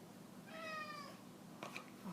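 A cat gives one clear, drawn-out meow at close range, followed by a short rustle in an otherwise quiet room.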